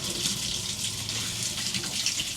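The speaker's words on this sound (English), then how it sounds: "And we'll go ahead and turn the water on again." Water rushes steadily from the tub spout of an RV tub shower valve just after it is turned on, a continuous close hiss and gush with no pauses.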